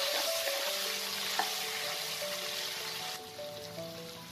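Coconut and potato pieces fry in a pan with a steady broadband sizzle throughout, close and fairly constant, no voices over it.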